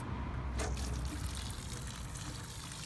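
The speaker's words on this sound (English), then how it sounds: "you'll notice that that water is draining very quickly" Water poured into a planting hole in rocky soil for a small tree, a close, steady gush and trickle that continues throughout without speech.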